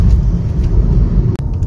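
Lorries roll along a road near Chennai North Port, making a loud, steady low rumble of heavy engines and tyres close by, with a brief dip near the end and no talking.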